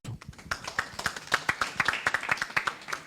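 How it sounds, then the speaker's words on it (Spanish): An audience at a public-health research ethics conference claps for an arriving speaker: a brisk stretch of distinct, fairly close handclaps that holds steady to the end, with a faint voice briefly heard. "Lo recibimos con un fuerte aplauso."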